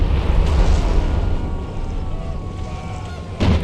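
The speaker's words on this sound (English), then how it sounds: "Artillery duel, maybe." Napoleonic-era cannon fire in a War of Austrian Succession battle game: a distant rumbling boom rolls out and fades, with another sharp blast at the end.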